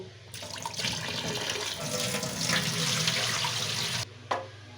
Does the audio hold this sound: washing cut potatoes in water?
yes